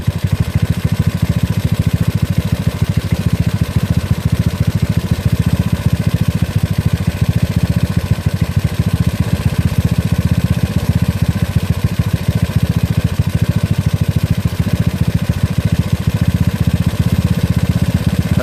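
A GY6 scooter engine with an OKO PWK 30mm carburetor idles loudly and close, a steady rapid putter holding even throughout with no talk.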